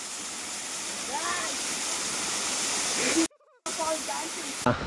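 Antharaganga waterfall pours in a steady, broad rushing hiss, with faint voices in the background and a brief cut-out near the end.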